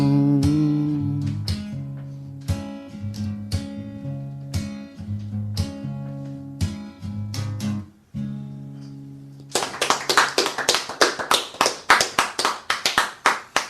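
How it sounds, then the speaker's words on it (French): Live song with sustained tones ends, then an audience bursts into steady, dense hand clapping that swells and continues loudly to the end; no voices. "il y a moins d'applaudissements qu'au Zénith"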